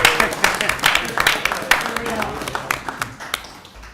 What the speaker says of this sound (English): shouldn't we give him a round of applause?